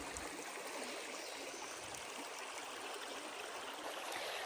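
Small stream flowing at a campsite water source on the Appalachian Trail: a continuous, even rush and trickle of water, close and steady, with no voices.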